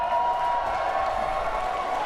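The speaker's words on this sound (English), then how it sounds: "We've got an awesome Los Angeles crowd here right now." An esports crowd in a Los Angeles arena at an Overwatch World Cup qualifier cheers and applauds, a steady, dense roar of many voices and hands that holds at an even level for a couple of seconds.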